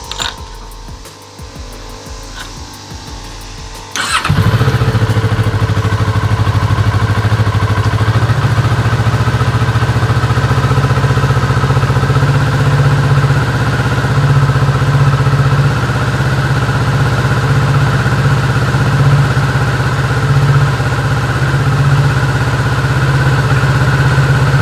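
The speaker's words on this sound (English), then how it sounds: "let us warm up the bike for about maybe 1 minute" A 2019 Kawasaki Z650 motorcycle starts up and settles into a steady, loud idle nearby as it warms up before an oil change, with a constant low engine hum and no speech.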